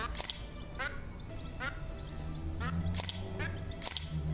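A duck in the bird-photography game Toripon quacks in a string of about five short, sharp calls spaced roughly a second apart over a steady background ambience.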